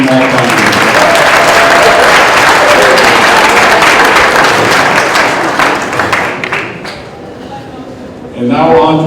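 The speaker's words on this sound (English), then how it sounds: "One more round of applause for our second team all-conference." Loud, sustained clapping from an audience at a high school winter sports awards night, with speech faintly underneath, fading near the end as a speaker starts talking.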